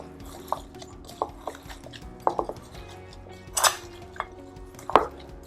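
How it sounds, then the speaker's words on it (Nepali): Spices being mixed into food in a bowl for a Nepalese Dashain pakku platter, with scattered clinks and scrapes of a utensil against the bowl and a few sharper taps, moderately close over a low steady background hum. "मिक्स गर्दिनुस् राम्ररी।"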